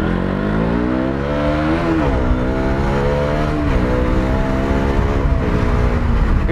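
A KTM Duke 200 motorcycle ridden through heavy summer traffic, its engine reported as overheating. A close, continuous buzzing engine note rises and falls as the rider works the throttle, with steady road and wind noise underneath.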